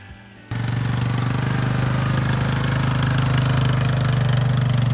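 An ATV engine kicks in abruptly and runs at a loud, steady drone with a rapid chugging pulse while hauling gravel at a building site.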